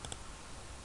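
Typing on a computer keyboard while modeling in Rhino and Grasshopper: a few faint, quick key clicks over a noisy background hiss.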